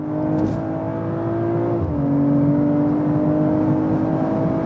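A car engine revs hard at high speed, a steady loud drone whose pitch climbs, dips briefly at a gear change, then keeps rising.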